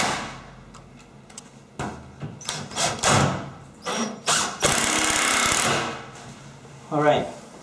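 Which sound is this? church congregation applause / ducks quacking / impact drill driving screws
impact drill driving screws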